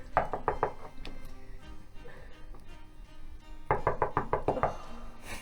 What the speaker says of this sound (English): Okay, Eris, you would hear knocking.